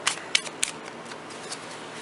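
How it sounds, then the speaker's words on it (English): A deck of cards for a trading card game is shuffled by hand, giving a few sharp riffling snaps and soft papery rustles spread over two seconds, close and fairly loud with no speech. "Shuffle your deck."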